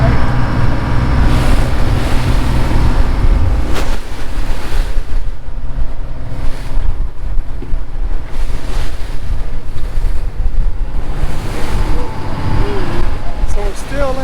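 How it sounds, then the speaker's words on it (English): Big open-sea swells and surf roll continuously around a deep-sea fishing boat off Panama City Beach, Florida, loud and steady with heavy wind buffeting the microphone throughout. "Some pretty big swells out here. Not near as many white caps though."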